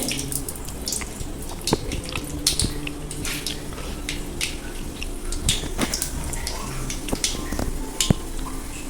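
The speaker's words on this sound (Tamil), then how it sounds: "கடுகு நல்லா பொரியணும்." Mustard seeds sputter and crackle in hot oil for a tomato rasam, a steady scatter of small sharp pops over a soft sizzle at moderate distance.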